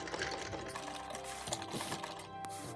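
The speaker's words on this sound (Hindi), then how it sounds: "अब हम यहाँ पे पक्की सिलाई लगा लेंगे ताकि हमारे चाक निकले नहीं।" A sewing machine stitches a firm seam along the side slit of a ladies' suit, a rapid, continuous mechanical chatter heard up close for a few seconds with no talking.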